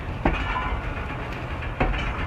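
The Hazara Express pulls out of a station, a low steady rolling rumble with two distinct wheel clacks over rail joints, fairly quiet and without voices.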